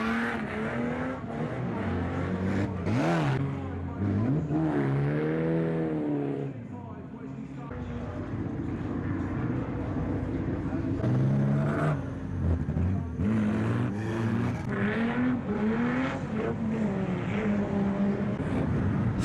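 Banger and saloon stock cars racing around a raceway at night, engines revving and accelerating continuously in loud overlapping passes, with a commentator talking over the noise throughout.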